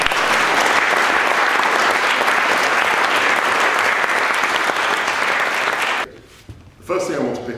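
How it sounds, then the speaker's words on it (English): A debate audience in a London courtroom setting gives a loud, dense round of applause lasting about six seconds, then it cuts off abruptly and a voice begins speaking. "I think a collective round of applause for all."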